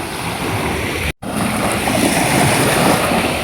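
Steady wash of sea waves on a seashore at dusk, loud and close with wind buffeting the microphone, broken once by a very short dropout.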